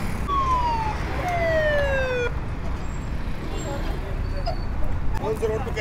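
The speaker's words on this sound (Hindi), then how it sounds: "दो बार चक्कर काट गया एम्बुलेंस वाला" An ambulance siren wails past at a roadside accident scene, its tone sliding downward over the first two seconds before fading into steady crowd and street noise.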